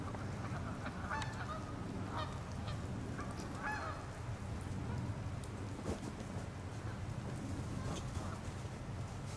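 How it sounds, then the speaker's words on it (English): A flock of Canada geese honks repeatedly at a distance over a steady background wash like rain, with the calls scattered and overlapping. "We have found a whole flock of Canada geese over here on Mrs. O'Leary's house."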